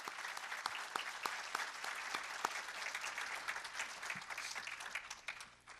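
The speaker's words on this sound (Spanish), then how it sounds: "demos un fuerte aplauso." Sustained audience applause from a crowd at a theological debate, dense steady clapping with a few sharper claps, continuing throughout and tapering slightly at the end.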